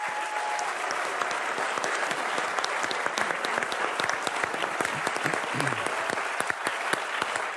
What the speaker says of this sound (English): Please let's give our candidates a round of applause.